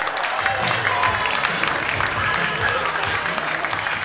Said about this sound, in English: How about a big round of applause for Brendan Linzi?